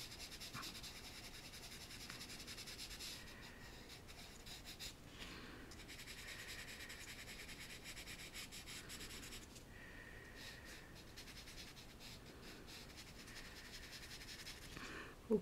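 KALOUR pastel stick rubbing across paper, a faint, steady scratchy scraping in continuous strokes with short pauses, close and quiet.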